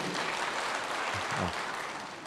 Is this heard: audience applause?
yes